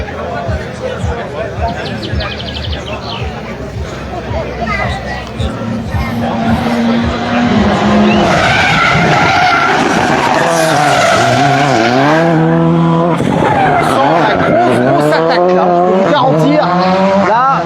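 A Volkswagen Polo GTI rally car brakes hard at a rally special stage, tires squealing and skidding loudly with rising and falling engine and tire tones, close and intense, over a murmuring crowd.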